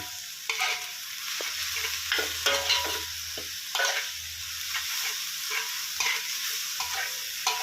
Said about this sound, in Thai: การผัดใบกะเพราไปด้วยนะครับ